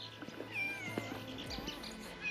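A cat at a secluded jungle lodge in Amboro National Park, Bolivia, gives a few short, close meows amid soft outdoor background noise.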